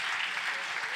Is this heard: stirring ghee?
no